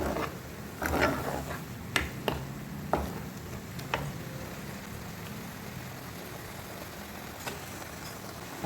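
Ghetkochu (taro) leaves cook slowly in a pan with a soft steady sizzle, while a spoon scrapes and taps against the pan a few times early on before the stirring settles into quiet frying.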